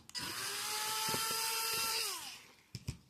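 A small motorized screwdriver backs out screws while an Enoze 1:43 scale RC car is taken apart, giving a close, steady whine that runs about two seconds before winding down, followed by a couple of sharp clicks.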